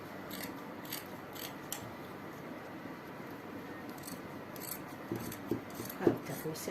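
Scissors snip through dress fabric in short, repeated strokes, close but soft over a steady room hum, with a few louder cuts near the end.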